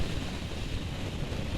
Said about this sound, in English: The wind against the helmet, you're kind of having to brace against that wind.